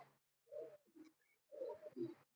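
A pigeon coos softly nearby in a few short, low throaty phrases separated by brief pauses, with no other sound around it.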